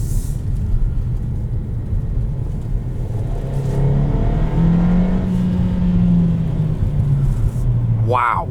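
Steady engine drone and road rumble inside a 2021 Kia Seltos S Turbo SUV, 175 horsepower, with the engine pitch rising and falling as it accelerates, continuous throughout, ending with a brief rising whine.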